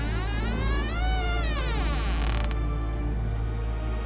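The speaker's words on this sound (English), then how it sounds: "the door creaked open" A wooden door slowly creaks open with a long, wavering squeal rising and falling over a low hum, cutting off near the middle and leaving a quiet rumbling background.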